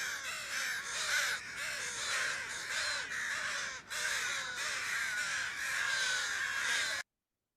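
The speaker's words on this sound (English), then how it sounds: "crows will also mob dead crows." A dense crowd of crows caws harshly and continuously at Madison Park while mobbing a dead crow, overlapping calls from many birds near and far, with no voices.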